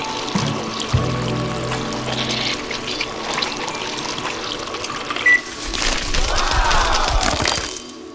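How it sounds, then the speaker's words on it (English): Concrete is poured from a hose into a post in a Lego animation: a sustained pouring and rushing flow, with sharper splashing and clattering bursts building toward the end. "Let's hook up the hose and pour it into the post."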